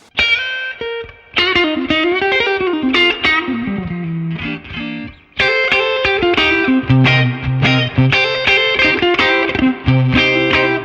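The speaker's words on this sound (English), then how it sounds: "I touched on the Telly neck pickup sound with kind of a little bit of extra reverb." A Fender Telecaster played on its neck pickup with extra reverb rings out in strummed chords and melodic lines, loud and continuous with a brief drop near the middle before fuller playing resumes.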